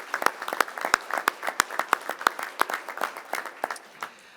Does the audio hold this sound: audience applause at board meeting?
yes